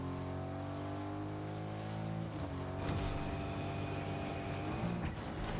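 A car engine drones steadily throughout a Fortnite match, its hum holding even with small shifts in pitch as the vehicle keeps moving, loud and continuous with no talk.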